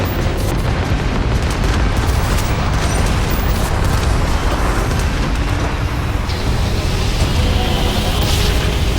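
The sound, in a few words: gunfire in a space battle in the video game Starfield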